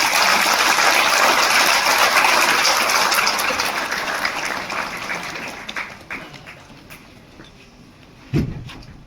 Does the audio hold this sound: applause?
yes